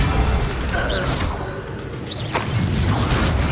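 A Bombarda spell explodes in Hogwarts Legacy with a loud booming blast amid continuous dense game combat noise, with swishing spell effects and battle clatter filling the whole stretch.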